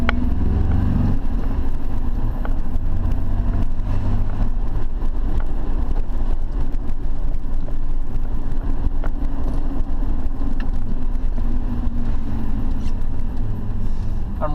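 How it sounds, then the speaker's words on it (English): A 2002 Dodge Dakota engine drones steadily while driving with a manual gearbox, loud and close from inside the cab, as the driver double-clutches and rev-matches through downshifts. "I'm rev match downshifting so that or double clutch rev match downshifting"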